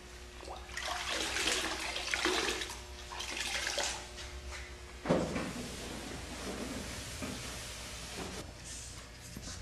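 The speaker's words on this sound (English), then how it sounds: "We're going to rinse it by hand." Water splashing and running by hand over a metal aircraft surface during an initial rinse, a continuous close wash of spattering water with a sharper splash midway and no talk.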